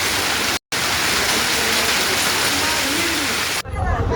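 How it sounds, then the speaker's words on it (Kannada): Heavy rain driven by strong wind pours down during a Bangalore thunderstorm, a loud, dense, unbroken roar with one brief gap. "ಜೋರು ಗಾಳಿನ ಮಳೆ ಬಂದಿದೆಯೇ ಪಾ"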